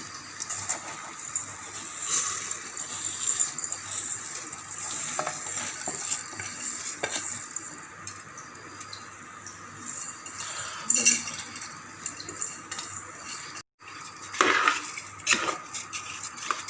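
Jeera rice being stir-fried in a pan for pulao, with a steady low sizzle under continual close scraping and stirring strokes that carry on without pause.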